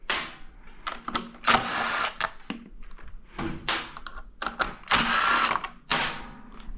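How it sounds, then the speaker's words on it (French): A small impact driver spins out screws holding the plastic fork protectors on a CF Moto 450 MT motorcycle, in several loud close bursts of whirring and rattling separated by short pauses. "Pour ça on prend la petite péteuse, ça ira plus vite."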